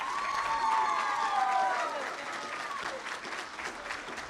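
Audience applause at a student scholars and leaders recognition evening, steady clapping from a sizeable crowd with a few cheers and whoops early on, loud at first then easing slightly.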